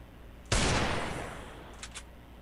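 A sharp burst of gunfire from the Free Fire video game hits at once and rings out into a fading tail, followed by two faint, brief shots.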